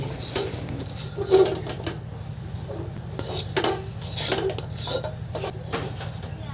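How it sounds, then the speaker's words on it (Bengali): Puffed rice tossed and mixed in a pot with molasses over low heat, heard as repeated dry scrapes and rustling knocks of a spoon against the pot. The strokes come in an uneven rhythm, close by. "পরিমাণ মতো মুড়ি দিয়ে ভালোভাবে নাড়াচাড়া করে মেখে নিব"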